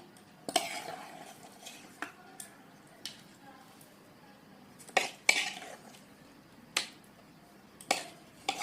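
Semolina (suji) is scooped into a pan with a utensil, giving scattered sharp clicks and scrapes close by against a quiet background, with some talking.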